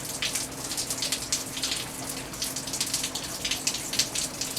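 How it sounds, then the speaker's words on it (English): Rain falling steadily in a garden, a close, continuous hiss of drops spattering on surfaces with irregular, brighter splashes throughout. "It's been raining for a few days."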